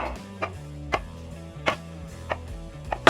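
A knife cutting gnocchi-style rice cake dough into small pieces on a board, with sharp chops landing at a steady, unhurried pace, about six cuts in three seconds, heard over soft background music.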